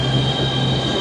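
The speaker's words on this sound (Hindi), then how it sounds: "ये अपनी मेट्रो है।" A metro train at a station gives a sustained rumbling roar with a high, steady wheel squeal, loud and continuous for about a second.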